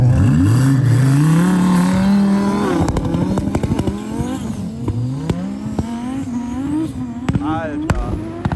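A 2000-horsepower twin-turbo Audi R8 roars off the line in a drag race on a ski slope, loud and close, its engine climbing through gear shifts with sharp pops and crackles.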